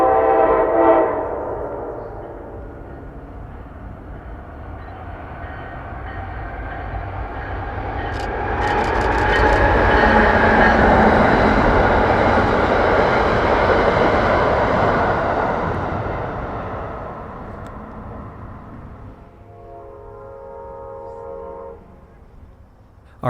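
An Amtrak train on the Keystone Corridor passes an embankment along Ann Street, opening with horn blasts, then a swelling rumble and rattle of cars that peaks and fades, with another horn near the end.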